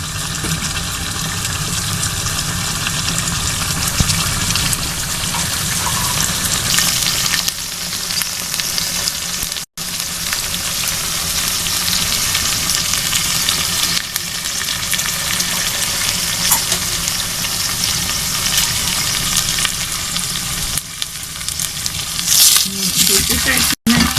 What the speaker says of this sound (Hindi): चिकन की भी दोनों साइड से अच्छी सा फ्राई हो रही है